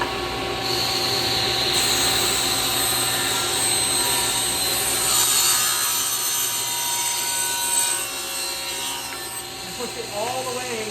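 A table saw runs with a loud, steady whine as it cuts a piece of wood fed with a push stick, the motor droning close and continuous throughout with a slight pitch dip near the end.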